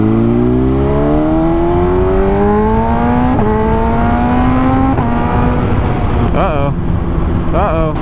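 BMW S1000RR sport motorcycle engine on the move, a loud steady drone rising in pitch through repeated gear-by-gear accelerations, with several sharp upshift breaks and a brief revving burst near the end.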